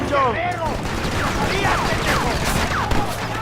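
Gunfire in the Western video game Red Dead Redemption, with loud, dense bursts of shots and cracks running throughout, overlapping a shouted voice and other game sounds.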